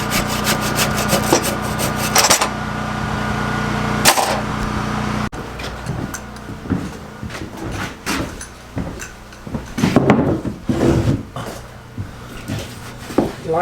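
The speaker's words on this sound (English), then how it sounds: "Saw ain't quite man enough to do it." Handsaw or power saw cutting wood siding, with rough rubbing strokes that start steady, then break into irregular bursts, close and loud.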